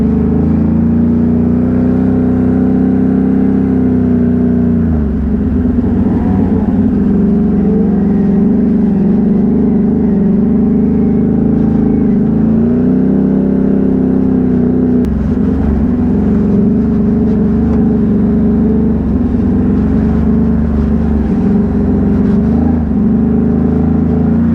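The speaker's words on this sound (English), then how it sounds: "Sometimes I wish the exhaust wasn't so loud so I could actually hear what's going on with this thing." A Can-Am Renegade ATV's loud exhaust drones continuously at close range, a deep steady rumble that rises and dips slightly as the throttle changes, with no talking.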